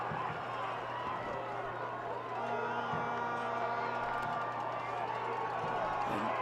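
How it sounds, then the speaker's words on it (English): Football crowd at a high school state championship game, Nixa versus De Smet Jesuit, a steady dense roar of cheering and shouting filling the stadium throughout, swelling slightly midway, with an announcer-style voice faintly mixed in. "The crowd's getting into it now."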